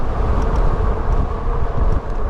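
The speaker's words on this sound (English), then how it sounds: "Sorry about the wind, guys. It's pretty bad today." Strong wind buffets the microphone of a Wallke H9 AWD e-bike on a ride outdoors, a continuous dense low rumble with gusty fluctuations and no talk.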